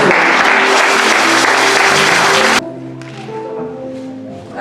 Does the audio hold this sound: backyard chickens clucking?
no